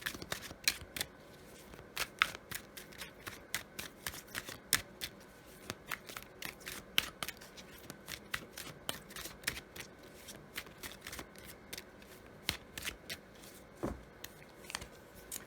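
Oracle cards shuffled by hand, a fast irregular run of crisp riffling slaps and flicks, close and fairly quiet, with no talk over it.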